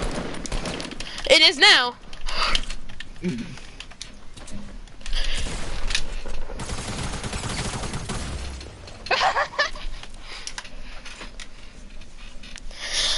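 Fortnite gunfire crackles in quick bursts and scattered shots amid game sounds, while a player talks and exclaims over the action.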